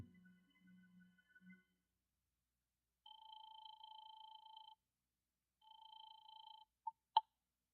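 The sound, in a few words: telephone call from a phone booth in old radio drama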